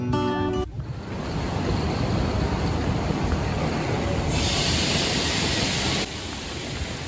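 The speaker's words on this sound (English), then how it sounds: "I decided to take the sleeping train." A sleeper train from Beijing to Harbin runs on the rails with a steady, dense rumbling roar that fills the whole stretch and dips slightly near the end.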